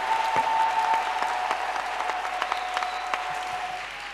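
A church congregation applauding to acclaim the Lord, a dense, steady round of clapping from many hands that carries on throughout and tapers slightly at the end, with no one talking over it.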